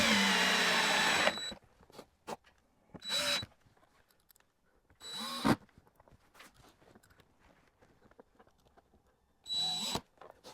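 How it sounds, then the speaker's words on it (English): Screws are driven back into a Lexus interior panel with short bursts of a power driver whirring, separated by quiet gaps holding small handling clicks and taps. "Now we're going to reinstall our bolts, our screws, not bolts."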